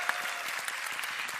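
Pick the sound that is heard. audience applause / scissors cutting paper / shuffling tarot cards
audience applause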